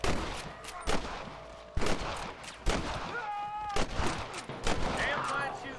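Repeated gunshots crack through a Red Dead Redemption Western gunfight, a steady series of loud, sharp reports roughly every second, with voices calling out between shots.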